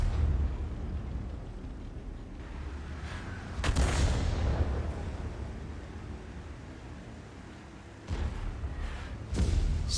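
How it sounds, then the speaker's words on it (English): SU-122-44 tank destroyer cannon firing in a World of Tanks-style game, booming shots with long rumbling decay, one big blast near four seconds and further reports near eight and nine, no talk. "SU-122-44 fires around him thinking that he must be there"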